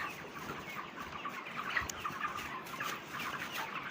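A flock of broiler chickens on a poultry farm in hot weather clucks and murmurs continuously, many birds overlapping at a moderate distance over a soft background hum.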